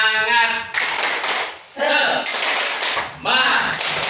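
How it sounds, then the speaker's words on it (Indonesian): Women at a business training session stand and do a 'tepuk semangat' group cheer, clapping together in rhythmic bursts under a leader's voice, with shouted words between clapping phrases. "Oke, kita tepuk semangat lagi, ya."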